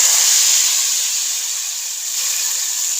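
Cumin, black cardamom and star anise fry in hot oil for a dhaba-style moong dal tadka, giving a loud, close, continuous hissing sizzle that eases slightly midway and holds steady.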